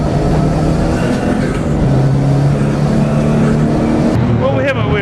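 A three-legged Volvo car running on one wheel short drives back around the Nürburgring, its engine a steady, loud drone throughout with voices talking over it.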